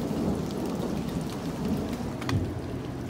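Heavy rain pours steadily in a thunderstorm while a rumble of thunder rolls underneath, a dense, constant wash of noise with no voices.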